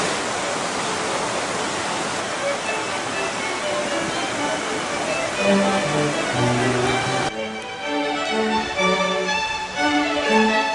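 A river in Olympus National Park in Turkey rushes with a steady, broad wash of flowing water, loud and constant throughout, while music plays over it in the later part.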